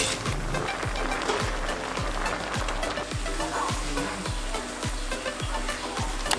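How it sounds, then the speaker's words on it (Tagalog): Sliced sun-dried sweet potato is stirred in a simmering pot, soft sizzling under a steady series of rhythmic scraping strokes, roughly one every half second, close and moderately quiet. "Then mix and simmer for 5 minutes."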